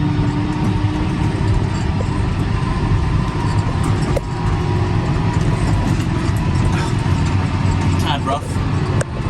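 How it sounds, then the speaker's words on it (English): A John Deere 6R tractor engine running steadily from a cab, a continuous low mechanical drone with a faint higher whine, while someone talks over it throughout. "It's not a bad tractor, this one though."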